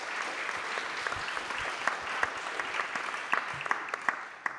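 An audience at a French round-table discussion on social bonds applauds steadily, dense continuous clapping from a room full of people, even and sustained throughout with a few sharper claps standing out.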